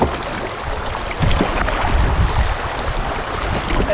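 A small outboard motor pushing a boat up a shallow rocky creek runs steadily, a close continuous drone mixed with water wash and wind noise on the microphone.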